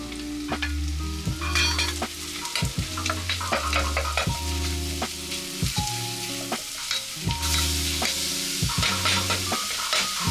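Shallots and mushrooms sautéing in a pan: a steady close sizzle broken by regular stirring and scraping strokes, with a sustained tonal backdrop running underneath.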